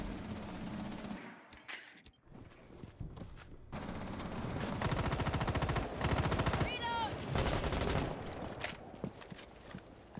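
Rapid gunfire from a tactical shooter video game match on the Border map, heard as bursts of sharp shots and automatic fire, with quieter footsteps and a commentator talking over the action.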